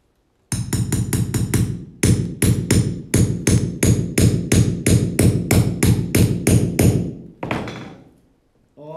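A hammer driving nails during a furniture reforming job, loud rapid blows in quick evenly spaced runs of strikes with brief pauses between bursts, close and dominating, with no speech.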